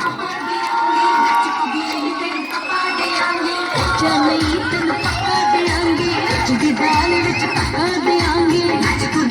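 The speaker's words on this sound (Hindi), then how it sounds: "तालियां बजाते चले, तालियों में कमी नहीं होनी चाहिए" Audience at a school Independence Day program clapping and cheering, a dense continuous crowd noise with shouts over a rhythmic thumping music beat, loud and sustained throughout.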